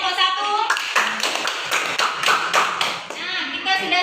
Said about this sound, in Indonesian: Ya, tepuk tangan untuk kelompok 1.